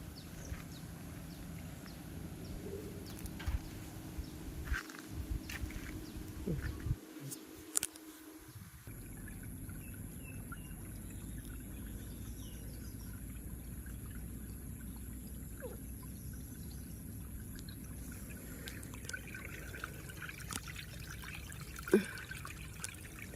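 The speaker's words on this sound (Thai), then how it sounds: "เสียงน้ำไหล" Rain runoff trickles and flows steadily through a small irrigation channel beside a house at the edge of rice fields, a continuous close wash of running water with brief louder splashes.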